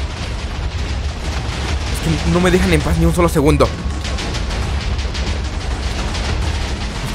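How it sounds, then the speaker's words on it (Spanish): Minecraft explosions boom in steady succession under constant game noise, with a sharp louder burst around the middle, while someone speaks Spanish loudly over the top. "Es que miren cuánta explosión."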